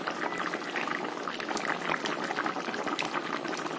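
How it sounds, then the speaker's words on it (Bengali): A pot of shukto, a vegetable curry made with milk and mustard paste, boils with dense, constant bubbling and gurgling, close and steady with no voices. "এটা টকবক করে ফুটছে তরকারিটা, শুক্তোটা"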